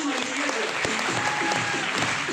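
An audience at a live Hindi stand-up comedy show claps in a dense, steady wave of applause for a couple of seconds, loud and close, with faint voices mixed in.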